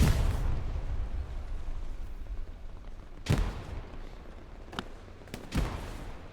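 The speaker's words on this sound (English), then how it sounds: "Nobody defending the garrison here from the proximity charge from Ark here" Booming explosions from a proximity charge destroying a garrison in the World War II shooter Hell Let Loose, with a sharp blast near the middle followed by two more bursts over a constant low battlefield rumble.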